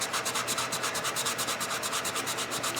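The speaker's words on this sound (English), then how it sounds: "as you can see where the sanding needs to keep going because it's not all the same color yet" Steady, rhythmic rubbing of sandpaper across a 3D-printed part, close and continuous with regular back-and-forth strokes and no talking.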